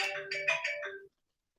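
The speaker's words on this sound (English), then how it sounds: "Oh my god, this phone." A mobile phone ringtone plays a short melodic electronic phrase of several quick tones, fairly faint, then cuts off abruptly into silence.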